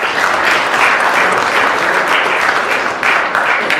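An audience at a cricket league roadshow event in New York City applauds a panel, a full, loud and sustained burst of clapping from many hands that stays even from start to finish.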